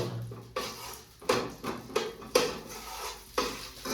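Ingredients roasting in a spoonful of homemade desi ghee: a spoon repeatedly scrapes and knocks against a metal pan in uneven strokes, with a soft, faint sizzle underneath, close and clear with no talking.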